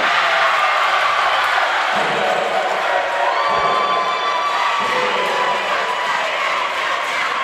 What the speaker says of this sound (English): You can hear the crowd going wild in the background